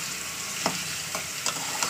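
Chicken leg pieces frying in hot oil, a steady close sizzle broken by a few sharp pops and stirring scrapes, no voices.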